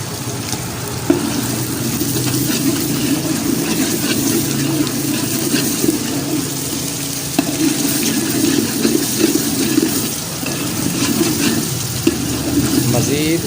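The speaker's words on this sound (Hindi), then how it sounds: "अब मैं जो है इसमें अदरक लहसुन का पानी जो है वो 2 चम्मच ये वाले भर के डालने लगा।" Tomato paste fries in a pan as ginger garlic water goes in for a restaurant-style aloo palak, giving a steady close sizzle with spoon stirring scrapes and no talk throughout.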